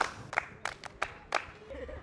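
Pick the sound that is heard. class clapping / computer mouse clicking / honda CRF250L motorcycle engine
class clapping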